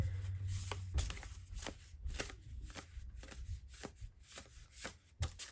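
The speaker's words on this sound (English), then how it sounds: "I'm going to go ahead and pull some more oracle cards for you guys" Oracle cards being shuffled and drawn by hand, a steady run of close, crisp papery riffles and slaps repeating for several seconds with no talking.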